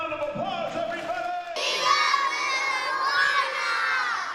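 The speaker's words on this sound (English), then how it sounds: "let's give them a big round of applause, everybody!" Children at a live safety-lesson show shout and cheer together, a loud, sustained crowd of young voices that swells and stays bright to the end.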